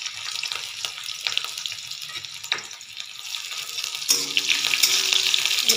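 Crushed, chopped garlic fries in a pan for a spinach sabzi, a soft crackling sizzle with a few stirring clicks that swells into a louder, steadier hiss partway through.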